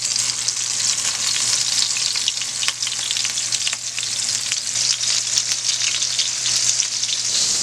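Beef burger patty sizzling and frying in a hot pan, a steady loud crackle and hiss that runs without a break under a faint low hum.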